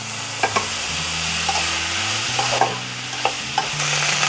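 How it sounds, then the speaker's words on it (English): Homemade paneer cooks in a pan with a soft, steady sizzle while a spoon stirs it, giving repeated light scraping clicks over the frying hiss. "Now I'm adding the paneer."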